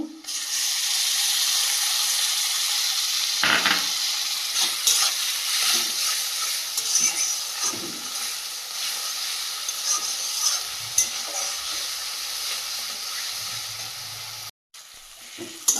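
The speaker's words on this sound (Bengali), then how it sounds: "আদা রসুনটা বেশ কিছুক্ষণ ভেজে নিয়েছি" Steady, fairly loud sizzle of ginger, garlic and green chilli paste frying in a pan, with occasional spoon scrapes, cutting off abruptly near the end.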